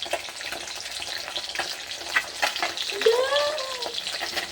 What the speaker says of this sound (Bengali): চলছে মাছ ভাজা